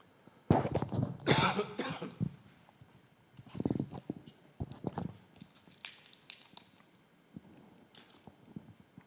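Several coughs in bursts, close and fairly loud, with short pauses between and a quieter throat-clearing cough near the end.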